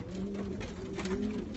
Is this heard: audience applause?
no